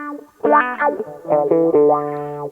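Electric guitar in a clean tone with a wah sweep, notes bending and rising in short phrases, played close and fairly loud.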